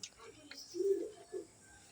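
Pigeons cooing nearby in a Bangladesh village, a soft low coo swelling once and then a shorter second coo, fairly faint against a quiet background.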